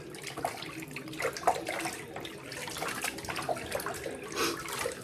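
A tap runs steadily into a sink as something is rinsed under the stream, splashing and gurgling close by for several seconds with no voices.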